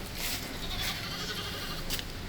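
Cross-breed goats at a farm in Palakkad, Kerala bleat in a few short calls over a busy, noisy background, fairly close.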